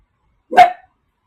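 A single sharp dog bark rings out once, close and fairly loud, inside a home, with silence before and after.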